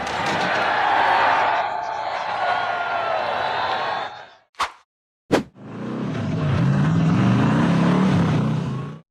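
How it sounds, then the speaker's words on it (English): A red and black off-road buggy with an American flag on the rear climbs a steep rocky slope at night, its engine roaring loudly, briefly cutting out, then surging again, with a crowd audible around it. "the red and black buggy with an American flag mounted on the rear attempted to climb the steep, rocky slope"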